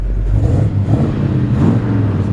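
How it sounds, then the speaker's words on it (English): A 1965 Ford F-100 pickup's V8 engine revs up and rumbles loudly at close range, with a deep, steady growl that swells and eases over a couple of seconds, no voices present. "Beautiful sounding engine."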